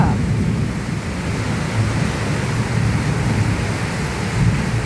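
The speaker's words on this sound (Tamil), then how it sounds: "மழை கொட்டுதே பார்த்துட்ருக்குறீங்களா?" Heavy rain pours down in a loud, dense, unbroken roar that fills the whole stretch.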